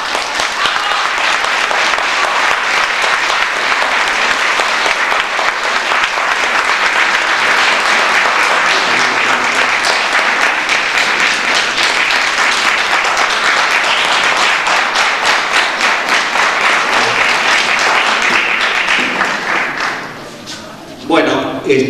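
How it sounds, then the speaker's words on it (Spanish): Sustained loud audience applause after a tribute at a ceremony, dense and steady throughout, fading near the end as clapping tapers off. "vale el aplauso de ustedes en este momento"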